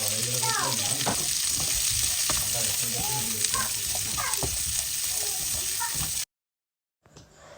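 Chopped onion, carrot and green chili with ginger and garlic stir-fry in a hot pan, giving a loud, steady sizzle with spoon scrapes and stirring. The sizzle cuts off abruptly near the end, and a faint sound follows.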